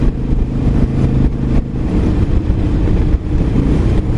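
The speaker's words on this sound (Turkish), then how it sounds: "Vites düşürdük. Çekiş lazım biraz bana." A car engine rumbles loudly and steadily from inside the cabin after a downshift, with a low revving drone that pulls under load and has no speech over it.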